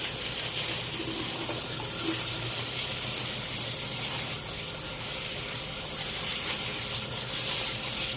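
A tap runs water steadily while buffaloes are washed on a farm, a dense, loud, even hiss and splash that continues unbroken with no voices.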